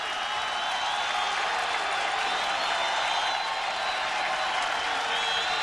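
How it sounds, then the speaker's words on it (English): A college football stadium crowd rises and roars on a third-and-ten play, giving steady, dense cheering and applause that fills the whole stretch without letup. "And the crowd comes to its feet."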